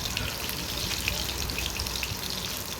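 Finely chopped onions frying in a pan, with a loud, dense, continuous sizzle and crackle that holds steady throughout and sits close and alone.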